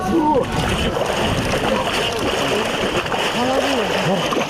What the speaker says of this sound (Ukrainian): До ополонки у формі хреста з крижаною водою, тричі перехрестившись і зібравшись з духом, заходять віряни.